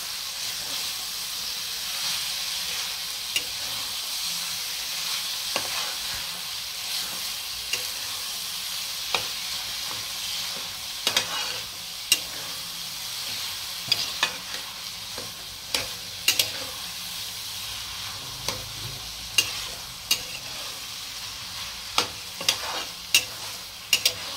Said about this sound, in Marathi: मिनिटासाठी पनीर चांगलं तेलात परतून घ्यायचे